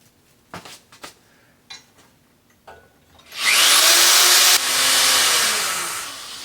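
A few sharp taps and clunks, then a loud high-pitched power drill whines steadily into a stripped bicycle quill stem bolt for about three seconds, pauses briefly, and grinds on again.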